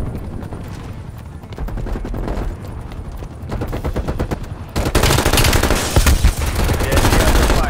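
Rapid automatic fire from an LC10 submachine gun in a shooter game while defending a VIP, with steady bursts that grow much louder and denser in the second half.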